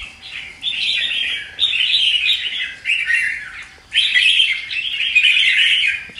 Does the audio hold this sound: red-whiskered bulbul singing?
yes